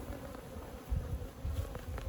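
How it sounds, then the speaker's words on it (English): Honeybees, riled guard bees among them, swarm a hive frame, giving a close, continuous low buzz that pulses slightly, with no talking. "These couple bees on this frame right here, those are called guard bees."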